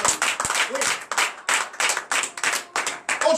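Congregation at a Saturday morning prayer service applauding in rhythmic bursts of clapping, fairly close and moderately loud, with a brief voice or two underneath.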